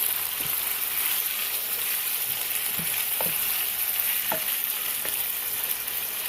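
Ground beef fries in a pan for a bulgogi wrap, giving a steady hiss and sizzle broken by a few sharp scrapes and taps as it is stirred.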